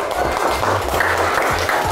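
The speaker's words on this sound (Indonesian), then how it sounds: "Tepuk tangan." Children clap their hands in rapid, uneven applause during a free nutritious school meal trial, a dense close burst of clapping mixed with lively room noise.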